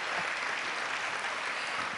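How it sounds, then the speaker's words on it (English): Steady audience applause at a convention leadership awards event, dense even clapping sustained throughout at moderate level with no voices over it. "Now's the time to give them a round of applause."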